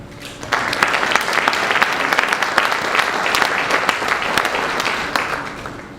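Audience applause at a Tuskegee Airmen honor ceremony greets King Arts Complex board member Mark Hatcher: dense, steady clapping from many hands that holds at an even, fairly loud level for the full six seconds.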